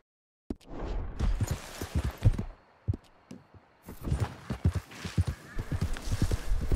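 Horse hooves clip-clop in the Red Dead Redemption 2 video game, a steady walking rhythm of close, distinct hoof strikes with a short quiet gap partway through before the hoofbeats resume.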